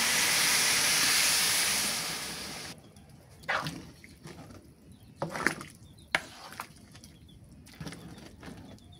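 Hot water poured into a pot of vegetable khichuri, with a loud, close steam hiss for about three seconds, then quieter bubbling and a few sharp clinks. No one speaks.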